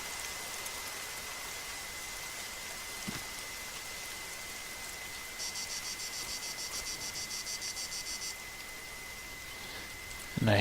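Steady rain falls at night in a continuous hiss, with a constant high insect drone running underneath. A pulsing trill comes in midway, and a brief thump is heard near the end.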